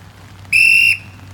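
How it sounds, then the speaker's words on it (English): A single sharp, shrill whistle blast from a handheld distress whistle cuts in loud and close for under half a second, over a quiet background. "they also know that if they hear a whistle on the water, that somebody is in trouble"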